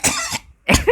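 Two sharp, close coughs from one person, separated by a short silence, each a harsh burst with a raspy throat sound.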